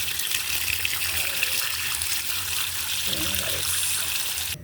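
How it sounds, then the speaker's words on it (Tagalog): Tap water runs steadily over kangkong (water spinach) being rinsed for pork sinigang, a constant broadband wash throughout with a brief clatter of leaves near the end. "sunod natin hugasan ang kangkong"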